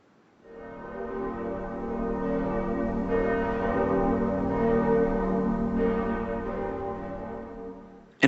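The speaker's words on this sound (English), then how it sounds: "Church bells can remind us of the passing of time or perhaps our own mortality." Church bells ring out in a rich, sustained peal, swelling in after a quiet start and holding a dense, resonant tone for several seconds before a sharp click at the end.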